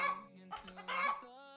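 Chicken clucking and squawking in a video game, a few close, bright fowl calls running in short bursts across the clip with no talk over them.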